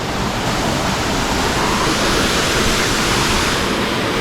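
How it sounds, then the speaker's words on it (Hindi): Botalda waterfall roars as a dense, steady rush of falling water, loud and close, with no other sound rising above it. "यहाँ पर भी एक वाटरफॉल है"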